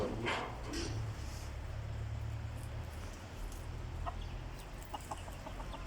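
Faint clucking from chickens and chicks comes and goes over a steady wash of rain, with a dog barking briefly once or twice in the distance.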